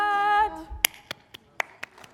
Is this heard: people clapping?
yes